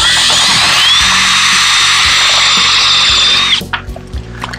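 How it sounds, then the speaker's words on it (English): A power drill whines loudly and steadily for about three and a half seconds drilling holes in a boat, then stops, leaving faint clicks and handling noises. "Drilling holes in the boat."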